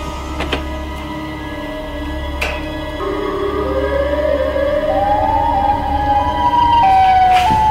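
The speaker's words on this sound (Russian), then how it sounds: "Мне кажется, или сирена уже в доме, а не во дворе?" Indoors in a house, a siren wails, rising slowly and steadily in pitch and growing louder over a low hum, with a few sharp clicks.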